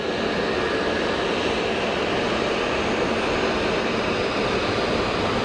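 Egypt Air Airbus A220 landing at Geneva Airport with reverse thrust, a loud steady jet engine roar that fills the whole stretch without letup, heard at close range.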